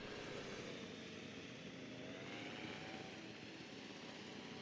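A helicopter flies in the video game Jurassic World Evolution 2, heard as a faint, steady mechanical drone and rush that holds evenly throughout, distant and without speech.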